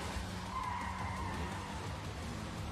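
Cars skidding during a street race event in the Neverness to Everness open-world game, a steady broad roar of tires and engines with a faint rising squeal, continuous and loud throughout.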